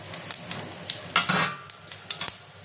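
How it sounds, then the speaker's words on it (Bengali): White cumin seeds tempering in hot oil in a wok, quick crackling pops and light sizzle with a few utensil scrapes, close and clear, peaking briefly midway, with no speech. "এটার মধ্যে সাদা জিরা ফোড়ন দেবো"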